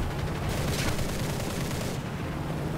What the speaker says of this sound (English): You can hear him blasting away with this 37mm cannon back there behind me